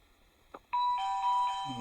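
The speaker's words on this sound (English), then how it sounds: "Once again, that was the doorbell because I walked through it." A doorbell chimes when someone walks past its light sensor, ringing a bright, clear multi-note tone that rings on for about a second after a brief soft knock in an otherwise quiet room.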